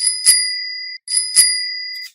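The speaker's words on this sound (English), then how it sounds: "Oh, like the sound of a bicycle bell." Two bright, ringing bicycle-bell dings, each struck with a sharp metallic attack and a sustained shimmering tone, separated by a brief gap, clear and close with no other sound.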